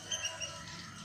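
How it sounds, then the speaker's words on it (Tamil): Birds chirp in a village at dawn, a few short high tweets close together near the start, fairly faint over a quiet background with no talking. "நல்லா அந்த பறவைகள் சவுண்ட்லாம் கேட்கும்போது"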